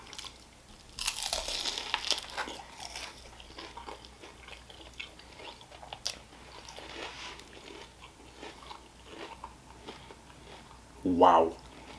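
Several crunchy bites of BonChon Korean fried chicken with crackling textures spread across the clip, ending in a loud, close crunch near the end, with soft talk in the background.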